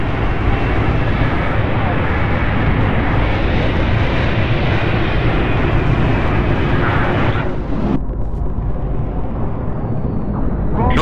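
A loud, steady roar of aircraft engines fills the scene as a dropship flies in to land on a corvette's topside landing pad in Halo: Reach, holding close and constant before cutting off abruptly near the end, with a voice speaking over it.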